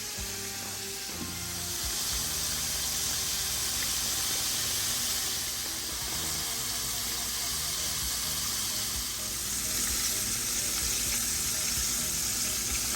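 Fried chicken sizzles in a covered pan, a steady loud hiss of oil and steam that holds evenly throughout with no talking.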